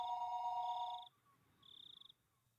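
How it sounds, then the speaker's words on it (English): A telephone rings in the Higurashi visual novel, with two electronic trilling bursts separated by a short pause, moderately faint with no talk. "the phone began to ring again."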